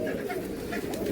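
Soft, continuous cooing from a pigeon with clipped wings, a low throaty burble held close and steady for the whole moment, no voices present.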